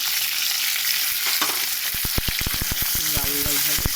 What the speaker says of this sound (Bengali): ভাজাতে হলুদ দিয়ে দিলাম,